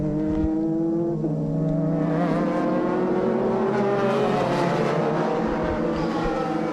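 A GT300-class race car, a Riley-based prototype, runs onto the main straight at Fuji during a Super GT 300 km race. Its engine gives a loud, continuous, droning whine whose pitch climbs steadily as it accelerates.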